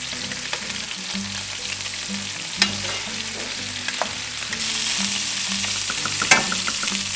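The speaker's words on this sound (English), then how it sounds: "We're gonna brown up the sausage, same idea. We're gonna brown it." Sausage browning in a hot pan for spaghetti gravy, a steady loud sizzle and crackle with occasional stirring clicks and scrapes throughout, no talking.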